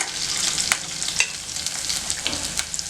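Ginger garlic paste hits hot oil for a mushroom gravy and fries with a loud, continuous crackling sizzle, dotted with sharp pops and spatters throughout.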